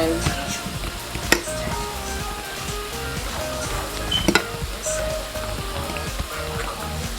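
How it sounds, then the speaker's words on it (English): Salted fish dumplings fry in hot oil in a pot with a steady crackling sizzle, broken by occasional sharp clinks and knocks as pieces are dropped in and turned. "how I go about frying my dumplings"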